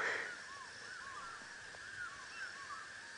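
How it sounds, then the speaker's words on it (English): A bird repeats short, thin calls at a distance, several in a row, faint over a steady background hiss, heard on a sunset safari drive. "I'm just listening to a bird that's calling."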